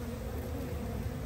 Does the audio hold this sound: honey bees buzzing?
yes